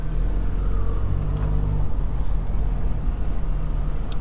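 Heavy highway traffic during Tropical Storm Elsa: a close, loud, continuous rumble of car engines and tire noise from inside a moving vehicle, with no talk.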